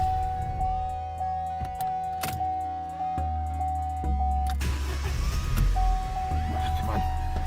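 A Vauxhall Corsa with an intermittent non-start fault cranks and catches, then idles roughly and barely keeps running, with uneven engine chugging and a steady electronic beep ringing over it close by.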